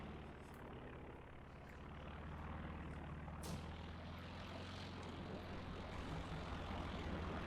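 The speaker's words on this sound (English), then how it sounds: "The airplane is in the sky." A propeller aircraft drones steadily overhead in the strategy game Company of Heroes 2, a constant engine hum that swells slightly and holds, with no talk.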